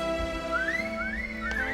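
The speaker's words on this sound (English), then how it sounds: "Igor whistles." A man whistles to call a horse in the Reverse: 1999 video game, a thin rising and wavering tone repeated in short upward sweeps over a steady background drone, fairly clear and close.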